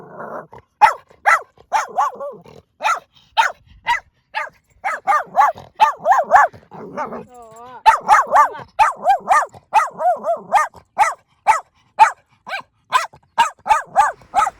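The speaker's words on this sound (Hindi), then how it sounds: "यहाँ पे ये भौंक रही है, बहुत भौंक रही है, क्योंकि दोनों मतलब कि गाय को देख के बहुत भौंक रही है" A dog barks over and over at cows, a fast run of sharp, close, loud barks with brief whimpering yips mixed in, continuing steadily throughout.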